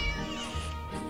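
A steady, fairly loud cat meow in the horror-prank video game Scary Teacher 3D, drawn out over a dense layer of game sound.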